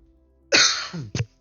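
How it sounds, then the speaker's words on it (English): A single close, harsh cough followed by a short second cough, loud against near silence. "Sorry about the cough."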